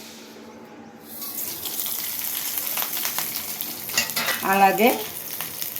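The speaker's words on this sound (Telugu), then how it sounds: "ఇప్పుడు పోపు వేస్తాను చూడండి." Mustard seeds, cumin, green and dry chillies and curry leaves crackle and sizzle in hot oil as a tempering for mango dal. The steady, loud frying hiss starts after a quiet second and carries on, with a brief voice near the end.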